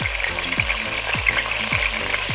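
Chicken curry sautes in a casserole with a constant bright sizzle, while a utensil stirs it in a rough rhythm about every half second, each stroke a low sweeping scrape.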